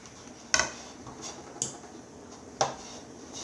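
A fork mashes hard-boiled egg yolks for deviled eggs in a dish: three separate sharp clinks against the bowl with soft scraping between them, close and moderately loud, no talking.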